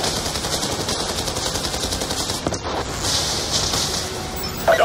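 Rapid machine-gun bursts and scattered gunshots in a war game set in Afghanistan, loud and sustained, with a sharper crack near the end.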